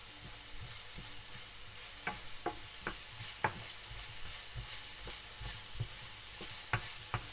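Onions sauté in oil with spices such as salt, black pepper and chili flakes, giving a soft, quiet sizzle broken by intermittent scraping stirs, with no talking.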